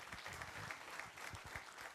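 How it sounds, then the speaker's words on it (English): A congregation claps in sustained, even applause at a modest level, a steady patter of many hands with no voices over it. "That was a good, you can clap it up. I need some claps on that."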